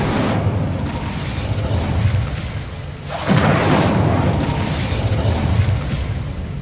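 Booming spell explosions from Bombarda cast in Hogwarts Legacy, a steady loud rumble of blasts with a fresh heavy burst about halfway through, set among other spell effects in the game.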